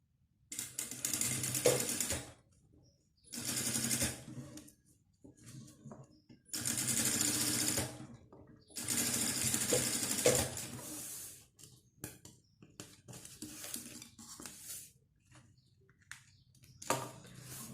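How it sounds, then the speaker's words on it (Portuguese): Sewing machine stitching a straight seam on a fabric pharmacy-style pouch, running in several loud bursts of rapid mechanical chatter with quiet pauses between, no talking. "E aí, eu passo uma costurinha reta aqui."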